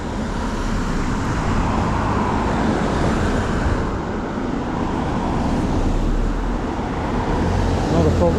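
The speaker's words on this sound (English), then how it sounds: "Traffic's picked up a bit." Steady road traffic on the A418 Oxford Road, near Aylesbury, forms a continuous broadband roar of passing cars and heavier vehicles, fairly close and unbroken throughout, with no talk.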